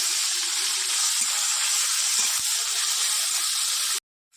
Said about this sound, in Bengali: কড়াইয়ের মধ্যে দিয়ে দেবো রসুন বাটা, তার মধ্যে দিয়ে দেবো পেঁয়াজ বাটা, আদা বাটা, টমেটো কুচি,